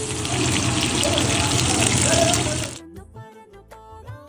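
Octopus pieces fry in coconut oil in a pan, a loud, close, hissing sizzle for a few seconds that suddenly drops away to faint, sparse sounds.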